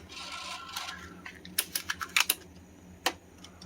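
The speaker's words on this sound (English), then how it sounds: "Let's put this tape in." A tape goes into a Sony DTC-59 DAT recorder: soft rubbing handling noise, then a quick run of sharp plastic clicks and snaps, with one more click shortly after, close and fairly quiet.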